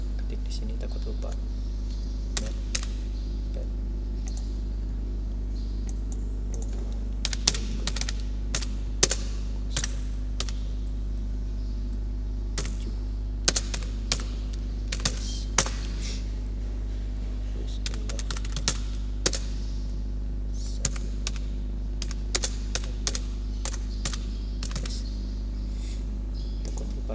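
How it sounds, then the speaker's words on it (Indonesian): Keys clatter on a computer keyboard in irregular bursts of close, light clicks with pauses between, over a steady low electrical hum while someone types notes during a network speed test. "Kita ketik di sini, takut lupa."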